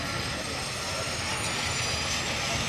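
A steady, loud, broadband whine and roar from the auxiliary power unit of an Embraer E195-E2 jet at London City Airport, droning continuously without change.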